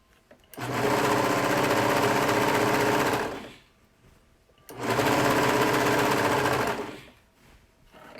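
A sewing machine stitching a dress runs in two long, steady bursts of rapid mechanical whirring, each about three seconds, with a short quiet pause between them, close and loud.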